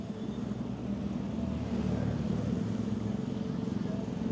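Old scooters and motorbikes in night-time street traffic in Medan make a low, continuous engine drone at moderate distance, a steady rumble with no clear individual passes.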